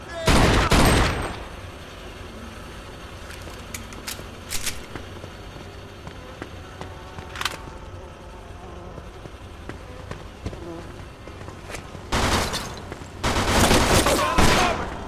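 Gunfire in the Mafia II video game: bursts of shots at the opening and again near the end, with a few isolated cracks between, sounding near and loud over a low game background.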